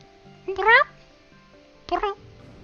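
A voice imitates an odd cat-like meow during a tabletop role-play game session, two short strained meows with rising, wavering pitch and a clicking edge, separated by a pause, close and clear.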